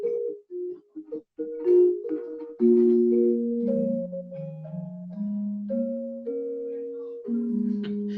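A Javanese gamelan gender, bronze keys struck one after another in the gong kabor pattern, clear ringing tones with overlapping sustains in a slow melodic line, close and fairly loud, no talking.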